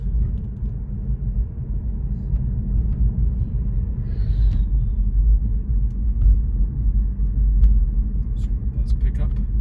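A car drives along Via Lomas, a residential road in Aliso Viejo, Orange County, at night at about 25 mph, giving a steady low rumble of road and engine noise from inside the cabin.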